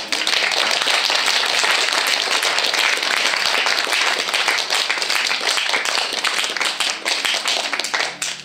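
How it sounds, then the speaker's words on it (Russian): Wedding guests clap steadily and loudly in a dense, continuous round of applause that runs unbroken and close throughout, without talk over it. "Друзья, аплодисменты."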